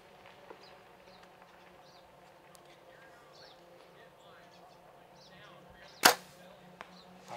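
An arrow strikes a foam archery target outdoors on a mountain archery course, a single sharp distant thwack standing out against quiet ambient noise with insects buzzing faintly.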